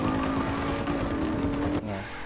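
A car in the Saints Row: The Third video game drives with a loud, sustained engine whine and a hint of tire noise, then drops suddenly to a lower rumble near the end.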